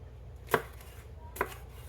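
Knife chopping peppers on a cutting board, two sharp, close chops about a second apart over quiet background.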